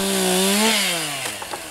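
A chainsaw cuts into wood to carve a sculpture. Its engine whines loud and close with a falling pitch as it bites in, then eases toward the end.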